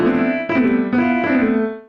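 Piano-like tones in a music program played by pressing and dragging the cursor around, giving a few smeared, overlapping sustained notes that shift pitch in quick succession, close and alone before fading out.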